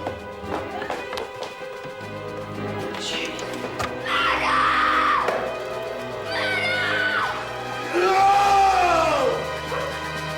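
Dramatic screaming of "murder" in a stage or TV production of Oliver Twist: several voices shrieking and wailing in rising, sustained cries over a busy, crowd-like background with tapping and running footsteps, loud and close.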